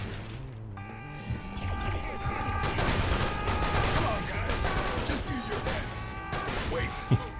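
Bursts of AK assault rifle fire in the Serious Sam: Siberian Mayhem video game, dense and rapid, running loud and continuous through most of the stretch alongside game music and mechanical clatter.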